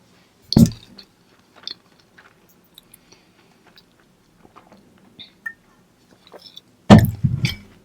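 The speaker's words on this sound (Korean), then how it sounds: "무화과 휘낭시에를 먹겠습니다." A fig financier is bitten with a sharp close crunch, followed by soft, sporadic chewing sounds and then another loud bite with more chewing, heard alone and very near.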